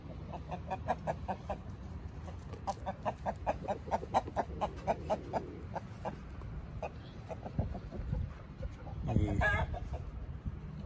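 Hens clucking around nest boxes with a rooster among them, a run of repeated close clucks in a loose rhythm and a louder squawk near the end, a faint voice occasionally underneath.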